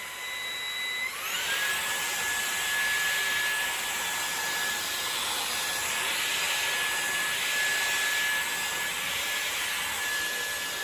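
A Levoit LVDC200 cordless vacuum cleaner with anti hair wrap runs steadily throughout at close range, giving a loud continuous whine with a high tone that rises in pitch as it powers up in the first second.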